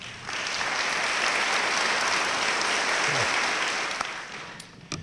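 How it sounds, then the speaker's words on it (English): A convocation audience gives a sustained round of applause for college ambassadors, a broad even wash of clapping from a large hall that fades out toward the end. "let me please ask them to stand for a great round of applause"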